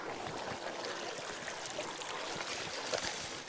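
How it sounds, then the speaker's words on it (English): Steady broadband splashing and trickling of stream water as an e-bike, a Biktrix Juggernaut Pro 3, is walked through a shallow creek near Superior, Arizona; continuous close wash with small sloshes and no voices. "I'm gonna walk the bike through the water this time"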